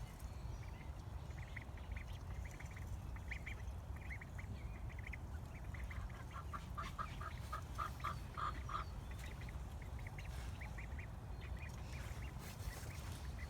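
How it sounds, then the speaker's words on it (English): Ducklings quacking in a new enclosed play yard and shelter, a run built to keep them safe from hawks; soft repeated quacks and peeps come in bursts over a steady low outdoor rumble, with no talking. "the ducklings are finally out in their new little shelter so they can play securely"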